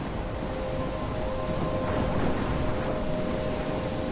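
Heavy, constant rain pours in a stormy Life is Strange game scene, with a low rumble of thunder swelling in the middle beneath the dense, close downpour; no talking.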